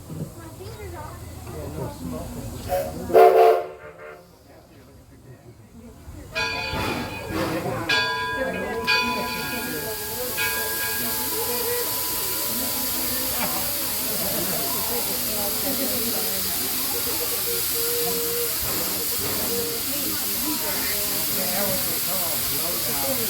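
A bell clangs a few times before a loud burst of hissing steam takes over, settling into a steady broad hiss with a rumbling steam train underneath, on the Greenfield Village Railroad.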